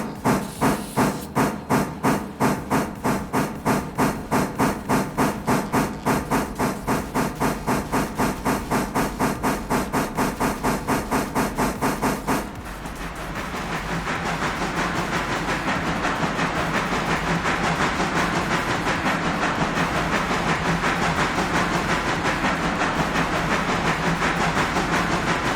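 Train cars roll past on the railroad toward a bridge site, with a fast, steady rhythmic clatter of wheels over rail joints for about half the clip, then a broad hissing rumble as the end of the train goes by.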